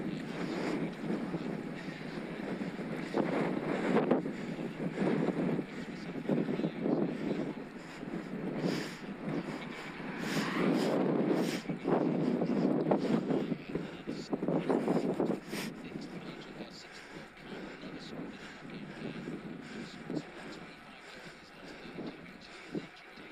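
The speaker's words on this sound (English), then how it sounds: "My word, this wind. Can you hear it?" Strong wind buffets the microphone during a road bike ride in the Peak District, a loud, gusting roar that swells and fades throughout.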